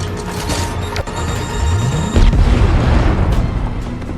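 A grenade goes off in a robot-versus-human movie scene: a sharp impact is followed by a rising whoosh and a heavy, rumbling blast that rolls on loudly with debris and crackle, alone without speech.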